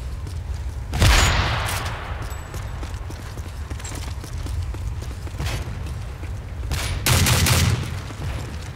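Gunfire in a first-person shooter video game, two loud, close bursts of shots about six seconds apart with quieter game noise and footsteps between them.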